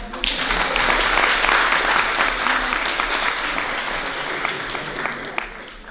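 A live audience claps steadily for about six seconds as an applause vote on Martha's anecdote at a French event, the clapping dense and even before tapering slightly toward the end.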